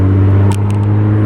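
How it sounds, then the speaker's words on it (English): An old car with a loud muffler driving uphill, its engine droning in a steady low hum close by, loud and continuous with no talk. "if you hear like a vroom sound when we're driving, it's because we're driving up a hill"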